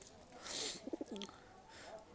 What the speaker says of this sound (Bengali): এই দুইটা কবুতর হাসিম ভাইয়ের কাছ থেকে নিয়ে আসা